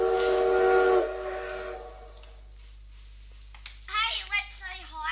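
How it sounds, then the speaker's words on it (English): A steam train whistle in the Minecraft Rail of Wars mod gives one loud, sustained tonal blast at the start and then falls away. A voice talks over the quieter remainder. "Blow the whistle. There's a whistle now."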